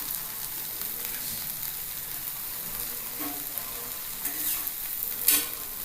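Bread frying in melted butter in a pan, a constant soft sizzle with light scraping stirs and a few clinks of a utensil, close and unaccompanied by talk.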